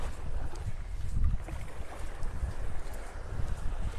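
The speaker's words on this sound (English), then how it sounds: "I'm going to be walking right into that wind." Wind gusting across Vanderbilt Beach in North Naples, Florida, a steady roaring rush with low buffeting rumbles that swell and ease throughout, loud and close to the microphone with no talking.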